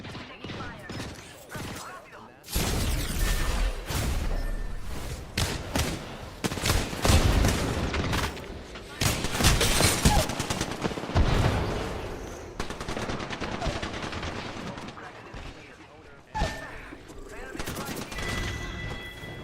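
Sustained gunfire in a shooter video game: dense bursts of automatic fire and repeated shots over nearly twenty seconds, loud and close, with brief lulls between volleys.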